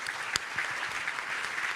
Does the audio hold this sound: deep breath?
no